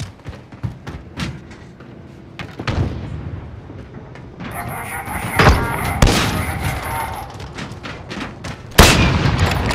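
Sniper rifle shots boom out in a first-person shooter match, several sharp reports spread over a busy stretch of game noise, with a bright electronic tone partway through and a loud final shot near the end.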